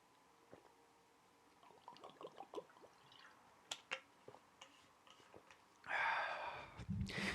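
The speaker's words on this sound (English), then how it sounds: "I'm going to take a sip of my water now." Someone sips water from a glass or bottle, with small wet mouth sounds and soft clicks, then a louder slurping gulp near the end, heard close up and alone in a quiet room.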